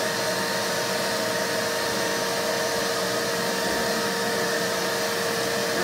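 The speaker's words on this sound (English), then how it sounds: "Alright, so we're vacuuming up these grills." A vacuum cleaner runs steadily at close range, sucking bees out of ceiling air-conditioning grills during a bee removal, a continuous loud whine with no pauses and no talk.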